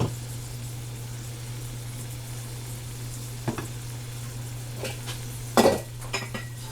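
Canned corned beef and chunks of cabbage fry in a pan with a steady sizzle and background hum. A few clinks of a utensil against the pan cut through near the end, and no one speaks.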